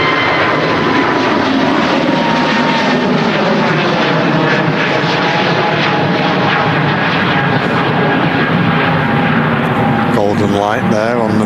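A Pegasus Airlines airliner departing Manchester Airport, its engines roaring loud and steady throughout with a broad continuous rumble, as a voice talks over it.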